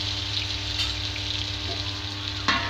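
Potatoes with turmeric and salt frying under a lid, a steady muffled sizzle holding even throughout with a brief clatter near the end.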